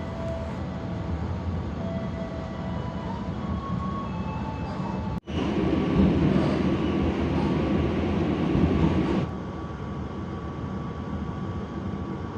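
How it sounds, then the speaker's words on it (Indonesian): The KA Jaka Tingkir passenger train pulls out of Kroya station, heard from inside as a continuous rumbling roll with a sharp jolt, then a louder stretch of rattling wheels before settling back to a steady hum. "KA Jakatingkir diberangkatkan kembali dari stasiun Kroya Kabupaten Cilacap jam 18:28."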